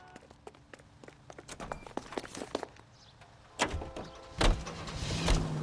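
In L.A. Noire, a detective climbs into a 1940s car. Footsteps and small clicks come first, then a car door thuds shut twice and an engine starts up at a low rumble, all fairly quiet.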